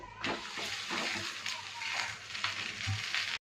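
Steady, crackling sizzle of fenugreek (methi) paratha frying on a hot griddle, loud and close, with faint spatters throughout.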